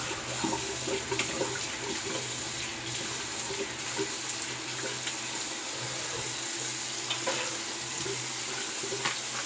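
A tap running cold water into a sink while rinsing after a shave, a steady close rushing stream with occasional splashes and clatters, no talking.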